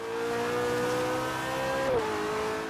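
McLaren 570S Coupe in Forza Horizon 3, rallycross build, driving with a sustained high engine drone that holds steady, then drops in pitch near the end as the car eases off, close and alone.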